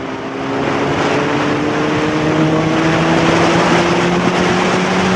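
Honda CBR600RR motorcycle engine and muffler droning steadily while riding, a loud continuous engine hum with a sustained tonal whine and wind rush, no talk.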